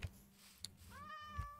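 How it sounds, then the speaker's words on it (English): A cat meows once in the block-building video game Minecraft, a faint, short rising-and-falling cry heard alone over a quiet background with a few soft thumps. "Oh, a cat. He's running fast. Meow."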